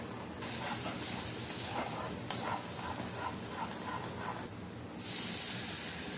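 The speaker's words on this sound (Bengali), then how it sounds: "খুব ভালো করে মশলাটাকে ততক্ষণ কষাবো যতক্ষণ না মশলাটা থেকে তেলটা ছেড়ে আসছে।" Spice paste with Kashmiri chili powder sizzling in hot oil while being fried down for a borboti (yardlong bean) curry, a steady close hiss with brief louder bursts as it is stirred.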